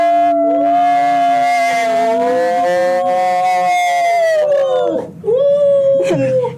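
A singing dog, one of a breed able to shift pitch and octave, howls long and loud up close, its wavering tone sliding and breaking briefly before resuming, with a person's voice faintly behind.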